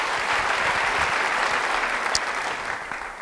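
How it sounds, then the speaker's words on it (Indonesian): A church congregation applauds during a sermon, with dense, steady clapping from many hands that holds at an even level for a few seconds before fading slightly. "Yang mau beri tepuk tangan bagi dia"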